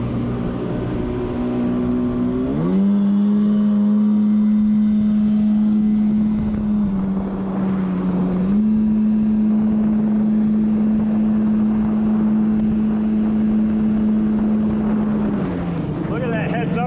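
A Yamaha WaveBlaster 2 jet ski engine rises in pitch, then holds a loud, steady high drone for a long stretch before easing off near the end, with wind and water rushing alongside it.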